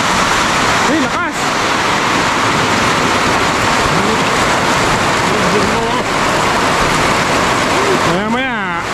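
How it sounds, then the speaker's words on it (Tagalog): Heavy tropical downpour pouring in steady bursts, a dense continuous roar of rain filling the scene at close range, with excited voices calling out over it at moments. "Uy, lakas!"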